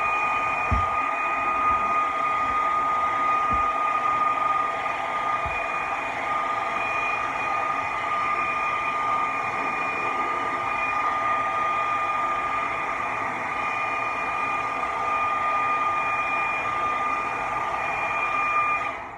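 A hair dryer blows steadily for the whole stretch, drying paint inside a box, as a constant even whir with a faint tonal whine and a few soft knocks near the start.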